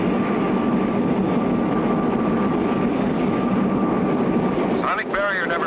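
Cartoon jet aircraft accelerating into a supersonic and 9G pull-out test flight, a loud steady engine roar running throughout, with a brief sweeping whoosh near the end.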